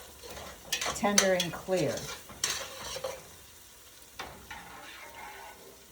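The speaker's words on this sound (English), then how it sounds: "So I will give them a stir also." Collard greens stirred in a pot: a utensil scrapes and clatters against the pot in several strokes over a soft sizzle, with a few words spoken amid the stirring.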